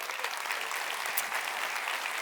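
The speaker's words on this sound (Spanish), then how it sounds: "Dele un aplauso al Señor" Steady applause from a church congregation, a dense patter of clapping that holds at an even level throughout with no voices.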